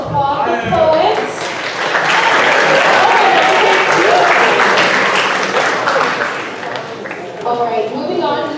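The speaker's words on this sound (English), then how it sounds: "Let's applaud the poets." An audience at a high school spoken word poetry competition claps loudly and steadily for several seconds, with a voice heard briefly as the applause begins and fades.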